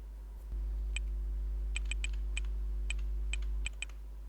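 Keys clicking on a computer keyboard as a word is entered into a form, about a dozen sharp separate taps in short uneven bursts over a steady low electrical hum, no talking.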